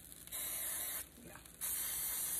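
Cooking spray hissing onto sandwiches in a kitchen, two long close bursts separated by a short pause, loud and steady, with no talking.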